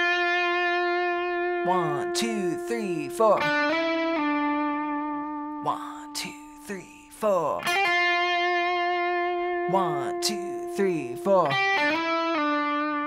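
Electric guitar plays the opening lick of a song, sustained notes with quick slides and bends over echoing effects, while a voice counts aloud over the playing.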